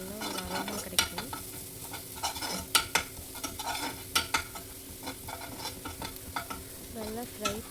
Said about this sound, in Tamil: ஆட் பண்ணி எண்ணெயில் ஒரு 2 to 3 மினிட்ஸ் நல்லா ரோஸ்ட் பண்ணிங்கன்னா